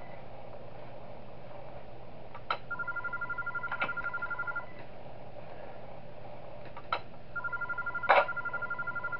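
A telephone in the horror game Those Nights At Wario's 3 gives two separate bursts of electronic ringing tones over a constant low hum, with short clicks between them.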